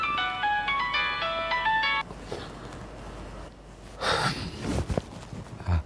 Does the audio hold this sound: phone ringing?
yes